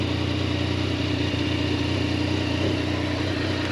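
A touring motorcycle's engine running steadily at idle, a close, constant low rumble with a faint pulsing throb and no speech.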